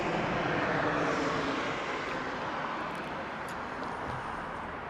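An Alaska Horizon airliner departs Las Vegas Harry Reid International Airport, a broad, distant roar of jet engines that slowly fades, faint and steady with no talking.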